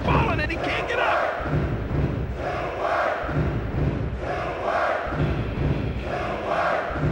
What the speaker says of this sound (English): this crowd is all pumped up